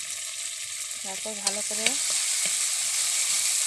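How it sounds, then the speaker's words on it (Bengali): White sesame paste with a pinch of turmeric sizzles steadily in hot oil as it is stirred and fried, a constant loud crackle under a brief spoken voice. "নেড়ে চেড়ে ভেজে নিচ্ছি"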